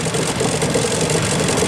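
A boat engine, restarted after sitting unused for a year and a half, idles nearby with a steady, loud low-to-mid rumble and slight knocking vibration, no voices over it.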